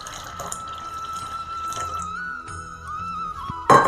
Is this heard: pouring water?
yes